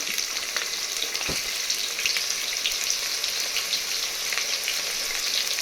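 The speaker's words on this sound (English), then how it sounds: "Now add chopped onion," Chopped onion frying with whole spices and garam masala for mutton biryani, a steady, dense sizzle of hot oil held at an even, close level throughout, with a faint stir or tap near the start and no voices.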